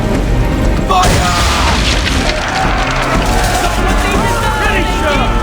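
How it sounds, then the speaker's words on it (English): Swivel guns fire at powder barrels in the video game Assassin's Creed 3, a dense wash of booming blasts and crashing explosions with game noise and muffled voices running underneath throughout. "Now give the swivel guns a turn. More precise. Hit those old powder barrels and light up the sky."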